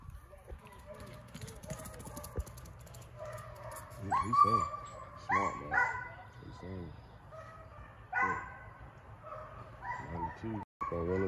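Hunting dogs at a field trial during a truck-prize hunt, barking in several bursts at middle distance with some higher whimpering cries, amid outdoor background noise.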